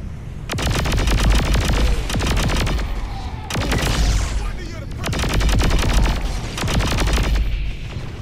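Rapid bursts of gunfire and booming explosions aboard a spaceship in the video game Saints Row 4, loud and dense, coming in several sustained volleys separated by brief lulls.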